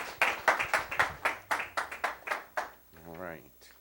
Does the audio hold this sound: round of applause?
yes